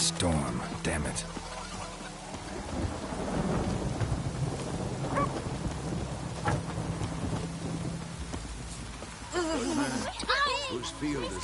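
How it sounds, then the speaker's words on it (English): Thunderstorm in The Witcher 3: Wild Hunt, with rolling thunder and steady rain pattering under game music and character voices, sharper crashes toward the end. "The storm, damn it."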